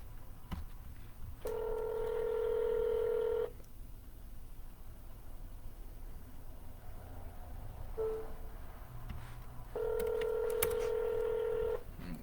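Touch-tone keypad dialing for a cold call to an expired real estate listing lead: two long steady DTMF tone stretches and a brief tone between, clear and alone over faint room hiss.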